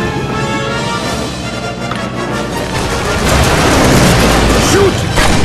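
Gunfire and booming explosions fill the Tintin Secret of the Unicorn adventure game on iPad 2, dense and loud over layered game noise, with voices shouting along.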